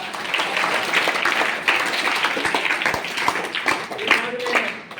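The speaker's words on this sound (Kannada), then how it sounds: "ಶರಣಾರ್ಥಿಯನ್ನು ಚಪ್ಪಾಳೆ ತಟ್ಟುವುದರ ಮುಖಾಂತರ" Audience applause for a revered swamiji at a Bhalki Hiremath gathering, dense sustained clapping from a crowd filling the whole stretch, fairly loud and steady with a few sharper claps standing out.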